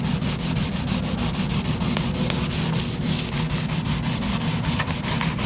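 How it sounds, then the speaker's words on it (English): Sandpaper worked by hand over painted car body panel near an air deflector, a steady close rasping scrub in quick back-and-forth strokes that continues evenly throughout. "what we're going to do is sand for a little bit here, work our way down to the end of the air deflector"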